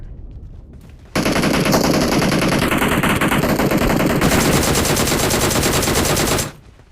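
Sustained automatic gunfire in PUBG Mobile during a tournament match, a loud unbroken stream of rapid shots lasting several seconds before cutting off abruptly.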